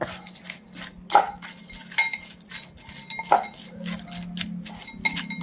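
Spoon scraping and clinking against a metal bowl as crushed vada is mixed with onion, carrot, chutney and black salt, a few sharp clinks over a soft steady stirring rustle.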